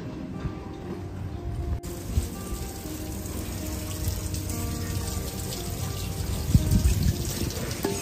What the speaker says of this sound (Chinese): 在这边把碗洗一下。